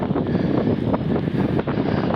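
Strong November wind buffets the microphone on a street in Şarköy, a steady, rumbling roar with gusty swells throughout, close and loud.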